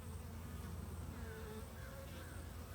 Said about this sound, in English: That bee's fanning away